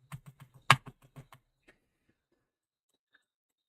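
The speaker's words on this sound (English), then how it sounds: "that is me clicking" Mouse clicks from someone right-clicking through a virtual tabletop program, a quick run of about eight close, sharp, dry clicks, then silence with one faint tick near the end.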